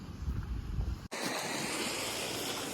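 Steady wind and rain hiss amid thick fog on a hill road near Kuttikkanam, broken by a sudden cut after about a second, then a brighter, even wash of noise continues.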